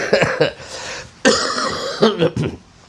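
Several short, sharp coughs and some throat clearing come from a person during a classroom lecture, in close, loud bursts separated by brief pauses.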